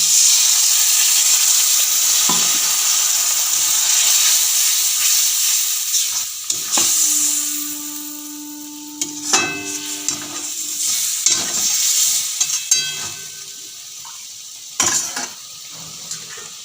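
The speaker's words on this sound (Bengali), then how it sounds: "দিয়ে কষাবো এখানে অল্প একটু জল দেবো" Spices for a broccoli curry sizzle loudly in hot oil in a pan. After water is added, the hiss drops, and spoon stirring and scraping clatters close by in short bursts.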